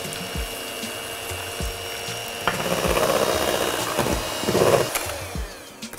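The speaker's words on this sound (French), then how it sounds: "on s'occupe maintenant des blancs qu'on va monter en neige au batteur" An electric mixer whips egg whites with sugar into stiff peaks, giving a close, steady mechanical whir with the beaters scraping and knocking against the bowl and a brief rise in intensity partway through.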